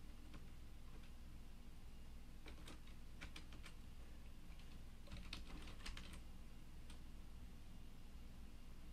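Typing on a computer keyboard: quiet, close key clicks in short irregular bursts over a steady background hiss.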